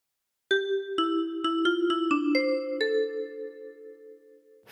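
A 10-key kalimba plucks the opening of We Wish You a Merry Christmas, about eight bright metallic notes in a steady rhythm, each ringing on, with the final note sustained and fading, close and clear with no talk.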